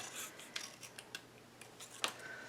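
Scissors snip around a paper outfit shape for a mini craft album, making quiet, close, irregular cutting clicks and soft paper rustles with short pauses between snips.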